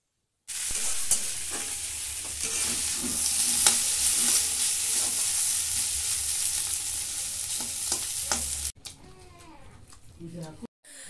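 Potatoes, carrots and spring onion fry in a pan with a dense, continuous sizzle and the scrape of stirring, while people talk over it before the frying cuts off.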